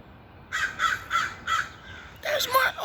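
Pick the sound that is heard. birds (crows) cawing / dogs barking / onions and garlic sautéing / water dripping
birds (crows) cawing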